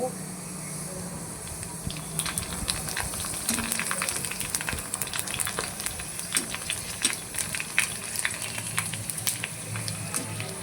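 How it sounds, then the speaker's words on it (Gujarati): Hot oil fizzes and crackles continuously as pani puri dough deep-fries and puffs up, with frequent bright pops and a faint voice in the background. "આવી રીતે સરસ તળી જાય તળી દેવાની થોડી લાલ પડવા દેવાની"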